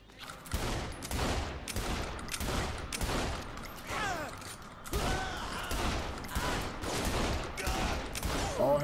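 Rapid bursts of gunfire crackle through a Saints Row The Third Remastered shootout, loud and near, with repeated volleys and short pauses across the stretch.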